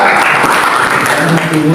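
A church congregation breaks into loud, dense clapping during a prayer-and-fasting sermon, with a voice calling out over the applause.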